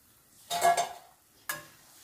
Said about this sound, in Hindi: तो उसको तेज़ आँच पर हमें फुल तलना है